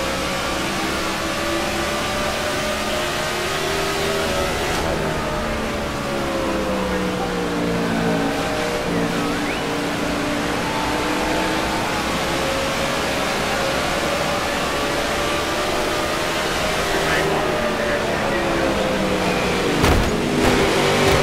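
Racing game car engine droning steadily for the whole stretch, its pitch rising and falling with throttle in a continuous near whine, with brief shifts and a couple of small knocks late on.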